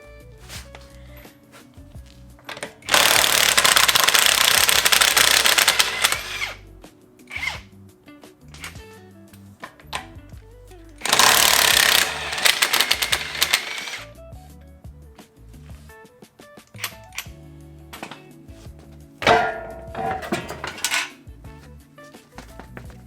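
A power tool spins lug nuts off a wheel of an SR20DET-swapped Nissan 240SX in a garage, with several loud, sustained buzzing bursts and metallic clanks and handling noises in between.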